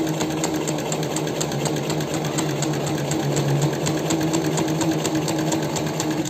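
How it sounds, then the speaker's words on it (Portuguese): A heavy-duty MC 243 triple-feed industrial sewing machine stitches steadily, its fast even needle rhythm and motor hum running close and continuous with no one talking. "Olha como o ponto aqui aumentou, ó, como ficou mais tranquila a máquina"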